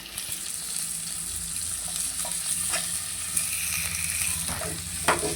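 Onions and tomatoes sautéing in a pan, a continuous close sizzle with occasional stirring scrapes and light clicks of a spoon, no voices.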